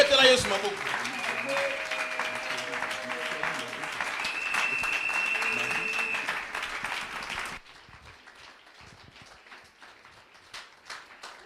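A church congregation at a Sunday service applauds loudly in a dense, sustained wash of clapping, with voices and cheering mixed in. The applause cuts off abruptly and leaves quieter scattered sounds.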